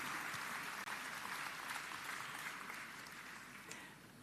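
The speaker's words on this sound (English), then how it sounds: "Everybody, put your hands together and give the presentation party a round of applause." A graduation ceremony audience at ESOFT Metro Campus applauds the presentation party, a broad, sustained roar of many hands clapping that slowly fades toward the end.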